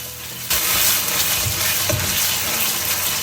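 Ground onion paste hits hot oil in a kadai with whole spices and bursts into a loud, steady sizzle. The frying stays close and continuous, with occasional stirring bumps underneath.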